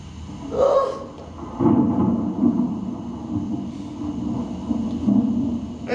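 A stage thunder effect rolls through a pantomime storm scene, heard as low rumbling that swells and lingers at moderate volume with a few brief higher bursts above it.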